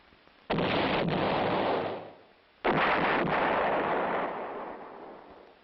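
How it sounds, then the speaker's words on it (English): Two heavy blasts from a towed 8-inch howitzer, each a loud sudden boom that rolls on for over a second before fading, spaced about two seconds apart. "One battery of towed 8-inch howitzers is included in the Infantry Division artillery."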